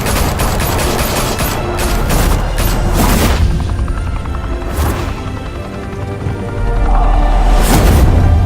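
Gunfire during a mafia clash in a high-rise club in a Batman video game: dense bursts of rapid shots and loud booms, close and continuous, with heavy rumbling underneath and no pause.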